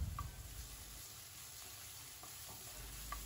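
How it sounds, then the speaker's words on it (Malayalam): Chopped medium onion with a pinch of salt sautéing in a pan for oats upma, a steady low sizzle with occasional stirring scrapes, close and fairly quiet, no talking. "അല്പം ഉപ്പും ചേർത്തിട്ട് സവാള വഴറ്റിയെടുക്കാം."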